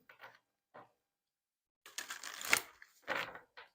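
Oracle cards being shuffled by hand, a few short soft riffles and slides followed by a denser burst of card flicking, close and quiet with no talk.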